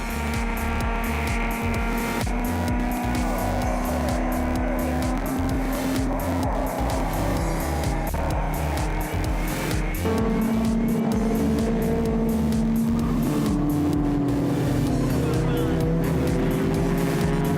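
Mercedes race cars lap a hilly circuit, rounding turns with a continuous droning engine note that shifts in pitch as they climb and pass, loud and steady with a faint whistling tone throughout.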